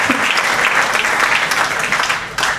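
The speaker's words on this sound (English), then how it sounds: "give him applause" Audience at a judge's retirement event applauds steadily, a dense, even wash of clapping that holds for a few seconds with a brief dip near the end.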